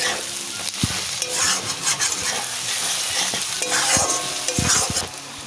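Mutton is sautéed with turmeric powder in a pan, giving a loud continuous sizzle with repeated spatula scrapes and clanks against the pan. No one speaks.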